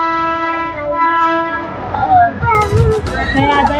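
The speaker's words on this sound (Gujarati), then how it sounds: "જો ટ્રેન આવી ગઈ" A train horn sounds with a sustained tone, then rumbling and clatter of an arriving train mix with a nearby voice.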